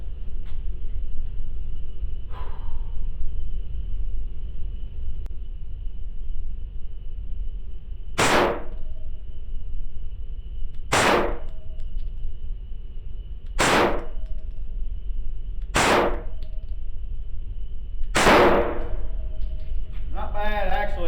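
Five sharp gunshots from a Polymer 80 pistol firing Blazer brass ammunition, spaced a few seconds apart over a steady background hum, with a faint clank early on.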